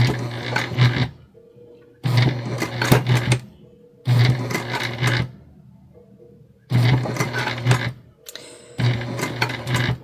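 A home sewing machine stitches a bag through a thick stack of fabric layers. It runs in four or five loud, close bursts of steady whirring, with short near-silent pauses between them.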